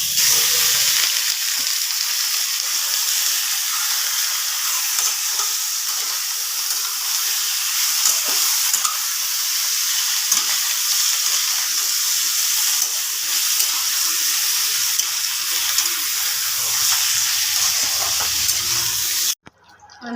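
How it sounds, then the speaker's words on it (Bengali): Chicken frying in a little hot oil, a loud, dense, continuous sizzle heard up close for about twenty seconds before cutting off abruptly; no voices. "এই যে এবার চিকেনটাকে একটু অল্প তেল দিয়ে ভেজে নেব।"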